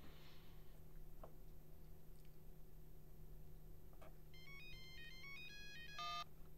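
A telephone ringtone plays a melodic electronic tune in rising and falling beeping notes over a steady background hum, starting partway through and ending with a louder burst, with no one speaking.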